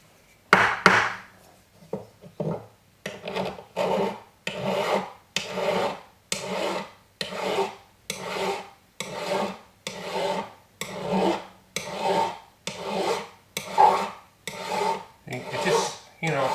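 A hand file rasps along the edges of a sterling silver box ring in steady, evenly spaced strokes, about fourteen close, loud scrapes after a few irregular starts, with no talk.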